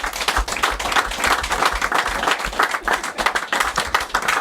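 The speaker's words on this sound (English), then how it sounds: "I think that deserves a round of applause." An audience at a football club event gives a round of applause, with a burst of dense, continuous clapping from many hands, loud and close, lasting the whole stretch with no voices over it.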